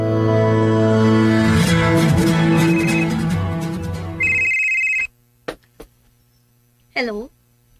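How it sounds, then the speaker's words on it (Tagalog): A cellphone rings loudly and close by with a repeating tonal ringtone lasting a few seconds, then stops and is followed by a few short clicks and handling noises. "marag ako rong cellphone ang nag-ring"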